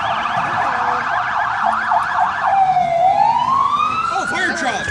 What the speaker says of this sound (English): Oh, fire truck! Let's go chase it!